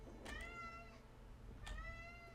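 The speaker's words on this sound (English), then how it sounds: "And you can still hear the cat screaming." A cat in the game Gris gives two long, drawn-out yowls, loud and close, separated by a brief pause, with a low hum underneath.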